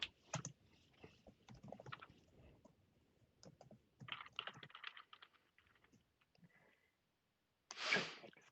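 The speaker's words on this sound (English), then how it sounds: "I'm trying to type as quietly as I possibly can." Someone types quietly on a computer keyboard during a tabletop role-playing session, with soft clicks in irregular bursts, a pause, and then a louder sneeze-like burst near the end.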